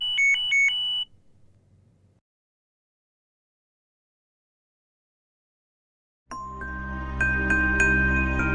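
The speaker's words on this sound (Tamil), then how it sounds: "ஃபோன் வருது பாரு." A phone rings with a short electronic tone pattern at the start, followed by near silence, then a loud melodic ringtone-like chime playing over heavy low hum.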